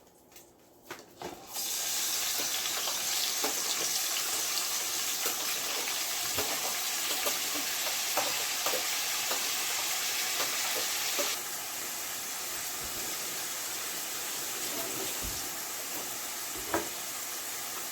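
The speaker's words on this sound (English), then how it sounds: "So you wait for this thing to saute." Tomato, sweet pepper, onion and scallion sizzle and fry steadily in a pot, a continuous close hiss with faint stirring clicks and a slight drop in intensity partway through.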